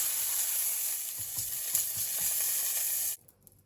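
Butter sizzles and fries in a pan during spinach and oat crepe making, a steady close hiss with soft scraping stirs, which cuts off abruptly near the end.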